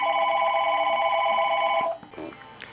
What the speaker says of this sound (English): Hey, let me get the phone.